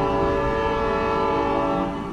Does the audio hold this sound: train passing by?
yes